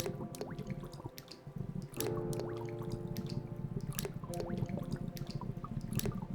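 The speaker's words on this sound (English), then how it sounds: "That is the sound of water droplets." Water droplets dripping in the menu screen of the video game Lobotomy Corporation, a steady scatter of small plinks over a constant low hum and layered tones, with no talking.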